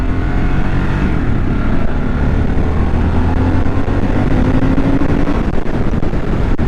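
A 2023 Harley-Davidson Sportster S motorcycle accelerates hard, its engine note climbing and roaring loudly and steadily with a rising pitch, close up, alone without any talk.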